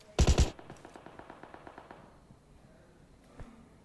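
Gunfire in PUBG Mobile: a loud opening burst of rapid automatic shots, then a fading run of evenly spaced shots, and one more sharp shot near the end, with no talk.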